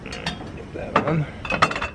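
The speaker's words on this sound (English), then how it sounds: "Get my spoon in here and stir this around." A spoon clinks against a pot while stirring hot chocolate brought to a rolling boil, making several light metallic taps in two short bursts, close and moderately loud.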